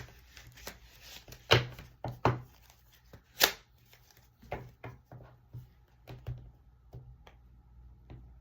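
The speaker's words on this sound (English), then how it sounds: "Let me shuffle these cards again." A deck of cards is shuffled by hand, giving a run of sharp riffles and taps at irregular intervals, close and fairly loud against a quiet room.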